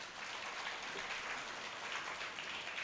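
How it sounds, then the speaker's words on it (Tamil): Applause from an audience at a Tamil talk in a small gathering, a soft, even, distant-sounding patter of clapping hands that holds steady throughout with no voices. "கேட்ட எல்லாரும் அவங்களுக்கு பலமாக ஒரு கைத்தட்டு தரலாம்"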